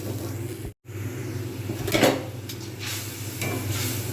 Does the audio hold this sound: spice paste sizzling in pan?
yes